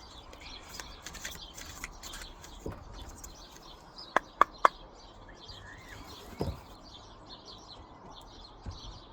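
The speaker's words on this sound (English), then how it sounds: "You hear the birds in the background. It's beautiful," Small birds chirp and tweet softly in the distance, with a few sharp clicks standing out against quiet ambient noise.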